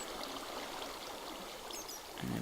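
Water flowing in a Minecraft mob farm build, a steady, close stream-like trickle and gurgle running throughout with no voices.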